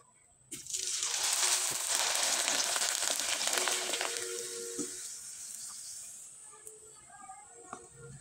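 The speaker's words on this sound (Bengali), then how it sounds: "আমি একইভাবে কয়েকটা পাঁপড় আপনাদের ভেজে দেখিয়ে দিচ্ছি।" Wheat-flour papad crisps fry in hot oil with a loud, dense hiss that bursts in suddenly, then slowly thins to a softer sizzle with occasional small pops.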